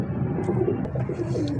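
A golden pigeon in Lahore coos in low, rolling phrases, close and fairly loud, repeating steadily with no voices.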